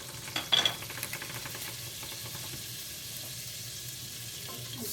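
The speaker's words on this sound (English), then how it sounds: "You can hear it sizzling." Butter melts and sizzles in a pot for French onion soup, a soft hissing crackle beneath a few clinks and stirring scrapes early on, then a quieter, steady sizzle with no speech.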